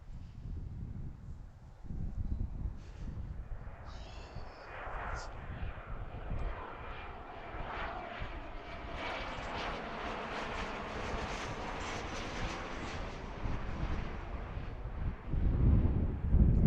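A Cessna Citation jet landing on runway 26 at Philadelphia, heard as a distant, steady engine roar that swells and fades, with wind noise on the microphone.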